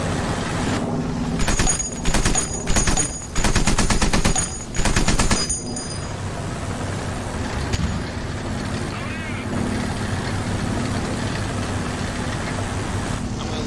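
Rapid bursts of machine-gun fire from an M1 Abrams tank firing tracer rounds, several sharp clattering volleys in quick succession followed by a quieter rumbling stretch, with voices talking over the sound.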